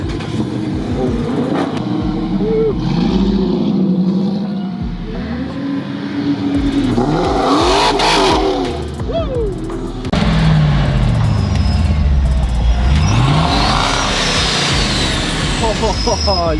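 A built, boosted 5.7 Hemi car revs hard, its loud roaring engine rising and falling through several throttle blips, with excited voices and cheering over it.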